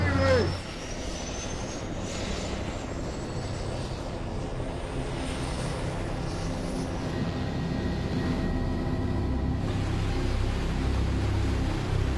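Steady, droning helicopter engine noise with a rotor-like hum, loud and continuous throughout, heard from inside the cabin as it flies between waterfalls.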